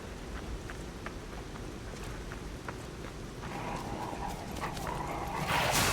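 Dogs in the video game Lies of P bark and yip in repeated short, sharp bursts over a low rumbling game background, moderately near, with the commotion growing busier and louder toward the end.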